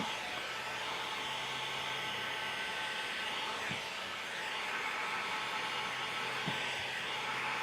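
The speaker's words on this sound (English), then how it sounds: "just get the heat gun nice and hot" A heat gun blows a steady, loud, continuous rush of hot air while shrinking ceramic window tint on a Ram truck, with a faint voice under the drone.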